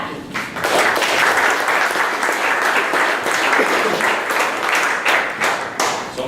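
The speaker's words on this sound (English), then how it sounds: "please give a warm round of applause for Tyler with Optimal Backing." Audience applause for a presenter at a morning startup pitch event, steady dense clapping that fills the room, holding loud for about six seconds before easing slightly.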